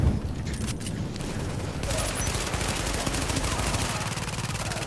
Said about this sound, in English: No better feeling than watching the other guy explode because you shot his grenade and he explodes